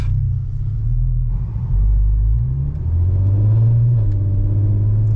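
A Volkswagen Golf MK5 R32 engine with an Akrapovic exhaust rumbles low and steady in a residential area, swelling briefly as it revs, with a deep, throaty exhaust note and no voices.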